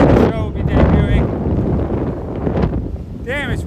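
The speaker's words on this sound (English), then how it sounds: "I don't know if you guys can hear the wind." Strong gusty wind buffeting a microphone outdoors on a walk, a loud continuous low roar and rumble throughout, with a voice breaking through it in short bursts.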